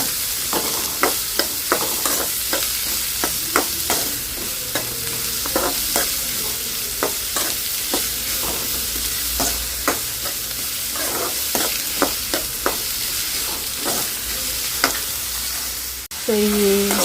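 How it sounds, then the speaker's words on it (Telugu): Onions fry in a pan in a home kitchen during Ugadi cooking: a constant sizzle under regular clicks and scrapes of a spoon stirring against the pan, with a louder clatter near the end. "As usual onion. కొంచెం ఫ్రై చేసుకోండి."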